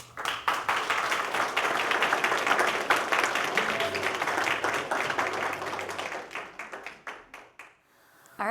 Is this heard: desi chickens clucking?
no